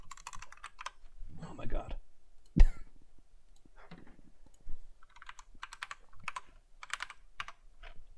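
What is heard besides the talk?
typing on a computer keyboard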